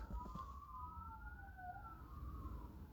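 Police or ambulance siren wailing outdoors, its two-tone pitch sweeping up and down steadily, heard at a distance and fairly faint under low traffic rumble.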